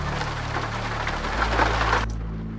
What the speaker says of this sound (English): let's get out of the rain into the truck